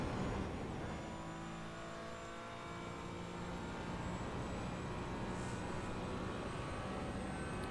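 A race car in a racing video game accelerates hard out of the final turn at Zandvoort, its engine a steady, loud drone rising in pitch as it pulls away, continuous throughout with no talking.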